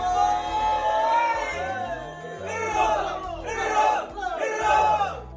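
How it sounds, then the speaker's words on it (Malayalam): Police officers at the Kothamangalam police station give loud group cheers to welcome Onam. A crowd of voices bellows in repeated rising bursts, about three strong waves, close and energetic. "ശേഷം എല്ലാവരും എത്തി ആർപ്പുവിളികളോടെ പൊന്നോണത്തെ വരവേറ്റു."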